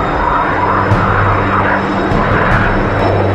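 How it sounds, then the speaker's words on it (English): Mikoyan MiG-29 jet fighter roaring past in a steady, loud broadband engine rumble that stays fairly constant throughout, with no voices. "Number 10. Mikoyan MiG-29."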